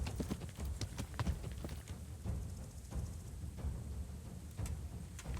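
Horse hooves clip-clop in the video game Kingdom Come: Deliverance, a quiet uneven patter of hoof steps over a soft background bed.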